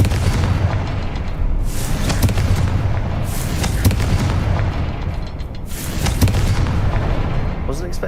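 Repeated Confringo fire spell blasts in Hogwarts Legacy boom loudly against a constant rumbling game backdrop, with several bursts spaced across the stretch and a voice talking over them.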